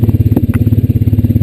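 A Honda Rancher 420 ATV engine cruises along a creek path, a loud, close, steady low thumping putter with rapid even pulses and a slight mechanical clatter.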